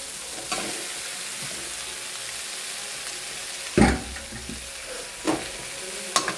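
Tomatoes drop into a hot frying pan already holding garlic and green chilies, bringing a steady close sizzle with a few sharp bursts of hissing and stirring clatter as the pieces hit the oil.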